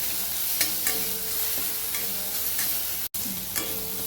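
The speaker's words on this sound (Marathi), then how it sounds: "थोडीशी हळद ते आपण परतून घेऊया" Fenugreek greens sautéing in a pan with salt and turmeric, a soft steady sizzle broken by regular scraping strokes of a spatula, close by and without speech.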